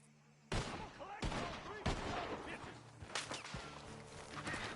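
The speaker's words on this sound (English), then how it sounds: "The guns are coming from that barn!" Gunfire from a barn in Red Dead Redemption 2, several sharp loud shots cracking out at irregular intervals over a quiet outdoor background.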